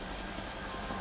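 Heavy rain pours steadily as a dense, even hiss of drops on surfaces, loud and continuous with no gaps.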